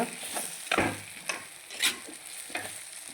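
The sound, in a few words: egg curry frying and being stirred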